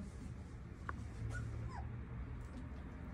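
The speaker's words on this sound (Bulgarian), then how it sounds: "Имаме избор в момента мъжки и женски кученца." Puppies at a breeding kennel give faint, brief whimpers and a couple of short high whines over steady background noise, without speech.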